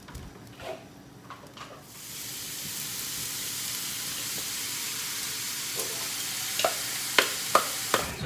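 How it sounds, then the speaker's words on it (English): Vegetables tipped into a small pan with leftover beef juices start frying, a loud steady sizzle that jumps up after a few quiet clatters, with utensil scrapes and taps near the end. "We're going to chuck the veggies in and cook them."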